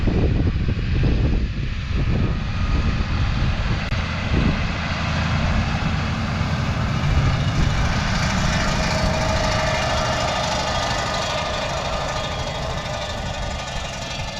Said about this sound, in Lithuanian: Pažiūrėsim, traktorius vandeniu eina.